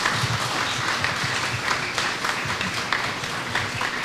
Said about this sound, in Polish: Brawa się należy.